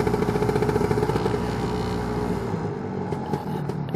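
A Lambretta scooter fitted with a BGM Pro MZ30 exhaust revs loud and close with a rapid pulsing buzz, then drops back toward idle after about two seconds.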